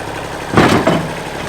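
An old farm tractor engine runs at a steady idle close by, a low chugging drone that swells briefly under load before settling back, with no voices.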